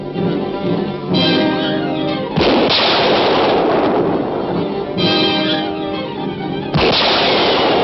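Heavy gunfire and explosive blasts in a staged battle scene, loud continuous volleys with sharp bursts recurring every couple of seconds.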